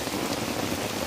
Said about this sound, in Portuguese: Tá difícil, pessoal, de gravar aqui debaixo desse chuvão.